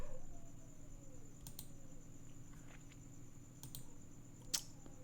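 Faint computer keyboard typing during web development work, a few soft keystrokes and one sharper key tap over a low background hum, with no voices.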